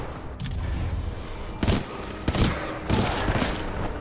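Rapid gunfire bursts in the video game Titanfall 2 crackle in several sharp volleys over a steady loud background roar, with heavy impacts and booms between them.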